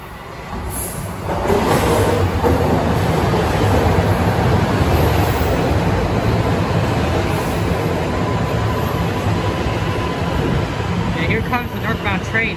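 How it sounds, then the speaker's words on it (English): Northbound Toronto subway train pulling into a station: a loud, steady rumble and rail roar that builds and holds, with a faint high whine and clanks near the end. "I'm gonna stop here for a second until the northbound train arrives"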